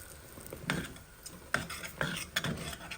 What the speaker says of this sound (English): I'm going to add it to my onions with my butter, and I'm going to keep stirring